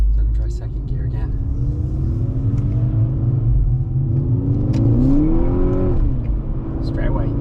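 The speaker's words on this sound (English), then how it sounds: "So I'm going to try second gear again." A 2012 Volkswagen GTI MK6 with an APR tune accelerating in second gear, its engine drone rising steadily in pitch from inside the cabin, loud and continuous, with a voice speaking over it.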